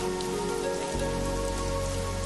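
Warm summer rain falls steadily on a surface, with dense close pattering and a constant, fairly loud hiss throughout and no voices.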